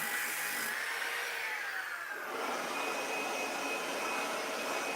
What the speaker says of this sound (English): once you kind of get the touch with the disc sander, it goes a lot faster